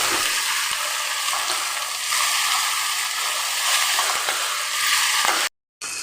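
Vegetables are mixed and stirred in a hot pan, making a continuous close sizzle with faint scraping that cuts out for a moment near the end. No one speaks.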